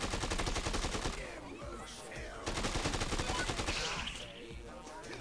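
Rapid automatic gunfire in the zombie video game Dead Rising 2, loud sustained bursts of rattling shots with a short lull in the middle, under scattered voice and game sounds.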